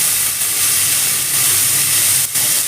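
Shelled beans mixed with salted water hit a hot pan for a green chilli curry, releasing a loud, continuous steamy hiss and sizzle, close and steady throughout.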